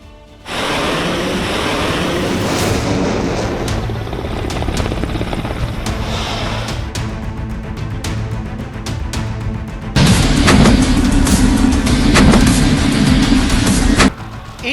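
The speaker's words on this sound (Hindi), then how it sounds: "रात के अंधेरे में कैसे फाइटर जेट्स गंगा एक्सप्रेसवे पर उतरे" Fighter jets landing at night on the Ganga Expressway, a loud sustained jet roar that swells louder near the end before cutting off, with no voices.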